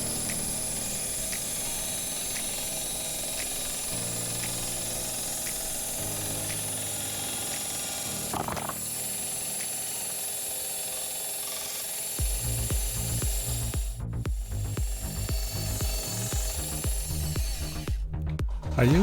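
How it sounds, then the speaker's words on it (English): Sanding strip disc sander rounding the corners and starting to bevel the edges of a wooden paddle, a steady motor whine with rubbing abrasion, then louder, more ragged grinding pulses as the wood is pressed to the disc. "I use this sanding strip disc sander to round over the corners and to try and start beveling the edges"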